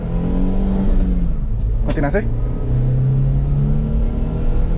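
Toyota Grand Avanza 1.3 G manual from 2016 revving hard above 3000 RPM, a steady loud engine drone climbing in pitch from inside the cabin, with a brief spoken remark near the middle.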